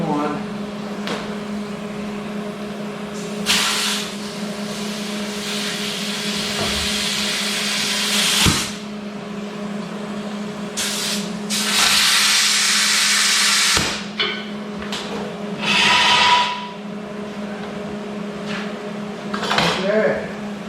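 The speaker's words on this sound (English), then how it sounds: "I gotta pump the bags back up for one." Air pump inflating the suspension airbags on a crew cab pickup, heard as a steady motor hum with hissing bursts of air that come and go over about twenty seconds in a workshop, with no speech.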